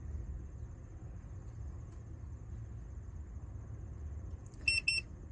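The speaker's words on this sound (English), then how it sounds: "Once complete, the indicator bar will stop cycling and the tester will beep" A handheld gas tester gives two short, sharp electronic beeps right after zero calibration, ringing out clearly over a low, steady background hum.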